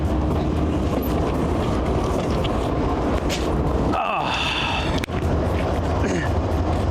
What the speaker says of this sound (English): So we're at the head of 3 locomotives